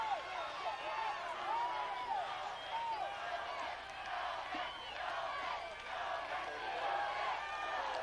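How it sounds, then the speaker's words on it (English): A high school football crowd at a Golden versus Eaglecrest game in 1993 roars and chants from the stands, a dense, continuous wash of voices, distant and steady, with a commentator talking over it. "So the Raptor faithful break into a cheer of hold 'em, hold 'em, hold 'em."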